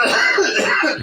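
A smoker's short, harsh cough, a single burst heard close and loud.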